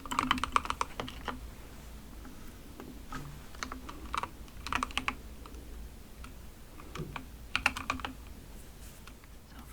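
Computer keyboard being typed on while coding, bursts of crisp close keystrokes in uneven clusters separated by short quiet pauses, no talking.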